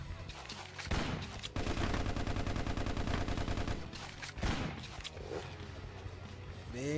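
Rapid bursts of gunfire crackle loudly in the game MicroVolts, a sustained rattling volley broken by short pauses, with game sound effects layered around it.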